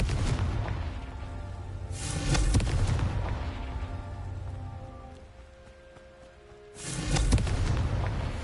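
A Confringo fire spell bursts in Hogwarts Legacy, two loud booming explosions with crackling rumble, one near the start and another near the end, over a steady game soundtrack with lingering tones between them.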